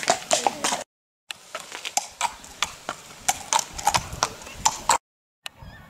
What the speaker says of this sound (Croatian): u kojoj se uče mladi jahat konje